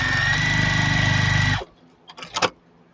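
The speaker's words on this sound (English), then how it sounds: "I always do a back and forth stitch over the seam just because there's always pressure" A sewing machine runs a steady, loud burst of back-and-forth stitching over a seam on a yarn bag, then stops, followed by a few light clicks and handling noises.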